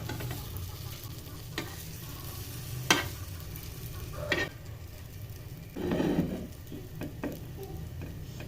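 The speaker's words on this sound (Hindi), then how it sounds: "हल्की आंच पर इसको आप पकाएं ताकि अंडा जो है उसका कच्चापन ख़त्म हो जाए।" Egg batter for a cheese omelette cooks in a pan over a low flame, giving a soft, steady sizzle with a few faint clicks and scrapes and a brief louder hiss near the end.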